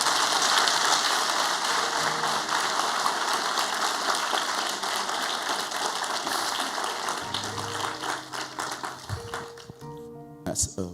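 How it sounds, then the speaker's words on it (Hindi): A church congregation applauds during a worship service, a dense, steady wash of clapping that stays loud for most of the stretch before thinning into scattered claps near the end, with some voices mixed in. "आइए प्रभु के लिए एक अच्छी ताली बजाएंगे"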